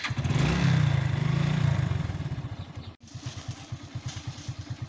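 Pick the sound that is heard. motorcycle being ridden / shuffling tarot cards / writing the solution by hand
motorcycle being ridden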